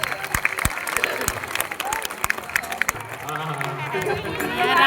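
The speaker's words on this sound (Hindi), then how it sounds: "सभी ताली बजा के स्वागत करो।" Crowd clapping at a Ramleela ground during a Navratri festival performance, dense and steady applause with scattered voices and a loudspeaker tone, building louder toward the end.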